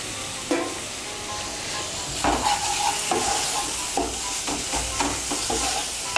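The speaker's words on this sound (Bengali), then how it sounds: "এখন আমি মশলাটাকে একটু ভালো করে কষিয়ে নেব" Masala frying and being stirred in a pan for a mixed dal tarka, a steady sizzle with repeated scraping stirs at a moderate level, no voices.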